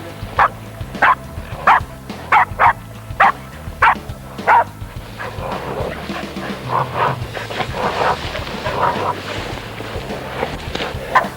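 Ginge, a pig-hunting dog on the Auckland Islands, barks in a run of sharp, evenly spaced yips close by, then gives looser, busier barks and whimpers amid rustling brush, with no talk.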